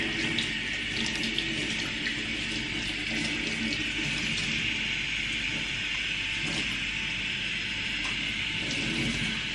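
Tap water runs steadily from a kitchen faucet over a bunch of parsley being rinsed, a continuous close hiss of flowing and splashing water with no talk.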